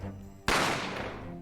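A single sharp gunshot effect from The Great Ace Attorney Chronicles video game cracks out suddenly over a quiet background tone, then trails off in a long, fading reverberant tail.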